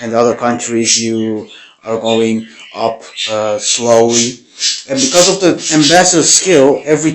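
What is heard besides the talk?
No everyday noise stands out behind the speech.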